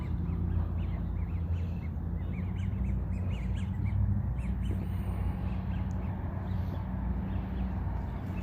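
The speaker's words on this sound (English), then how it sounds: "A lot of ducks here." Ducks quack intermittently outdoors in Vancouver, scattered short calls from several birds at a moderate distance over a steady low rumble of ambient noise.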